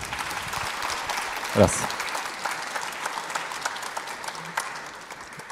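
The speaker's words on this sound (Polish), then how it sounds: "Brawa." An audience claps after a conference talk on AI, steady applause filling the room while someone says a brief word over it and a loud nearby knock or bump lands partway through.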